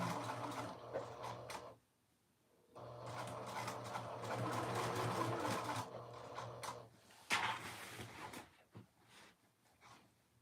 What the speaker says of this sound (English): Sew this side down at a 3/8. Back stitch at the beginning and the end.